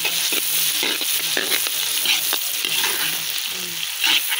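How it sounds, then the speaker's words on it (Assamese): Duck meat frying in a pan with whole spices, ginger and garlic, a steady close sizzle running throughout with occasional stirring scrapes and faint low hum beneath. "তাৰপাছতে এতিয়া মই এইফালে হাঁহ মাংস বনাই আছোঁ।"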